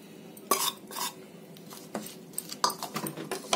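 A spoon stirs raw karonda pickle as cooled, previously heated oil is mixed in, giving irregular scraping and clinking knocks against the bowl at close range with no talk.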